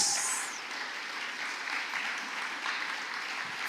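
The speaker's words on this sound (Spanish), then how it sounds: "Démosle un aplauso al Señor" Congregation clapping in a church service, a continuous moderate wash of applause that starts a little louder and then holds steady to the end, with no talking over it.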